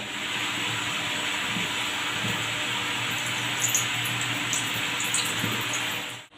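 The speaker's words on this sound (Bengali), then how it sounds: "বাকিগুলো যেগুলো আছে সেগুলো এইভাবেই আমি সব ভেজে নেবো।" Khaja pastries deep-frying in a pan of oil, a steady, even hiss of bubbling fat that holds for several seconds at a constant level with no talk over it.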